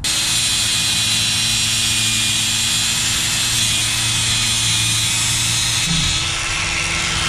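A power tool cuts steadily through a fuel line for a 1JZ-swapped Nissan 350Z, a continuous high whirring grind lasting about six seconds close by, then stopping with a short trailing hum.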